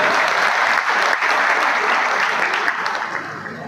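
Audience clapping at a political speech in Maharashtra, a steady dense burst of applause from a crowd that holds evenly throughout and tapers slightly near the end.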